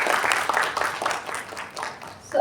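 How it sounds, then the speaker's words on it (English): A seminar audience applauds three panelists, clapping in uneven surges that swell and fade over a couple of seconds, with some voices mixed in. "I would request everyone to give a big round of applause for our 3 panelists"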